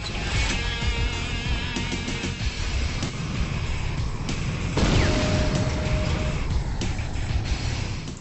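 Weapon fire and explosions from the Command & Conquer Renegade video game, including a personal ion cannon shooting at a light tank, make a dense, continuous barrage of loud booms, bursts and rumbling under game noise.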